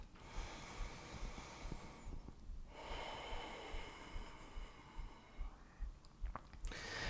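Deep, audible breaths during a strong vinyasa yoga flow, slow inhales and exhales close to the microphone with a brief pause between them.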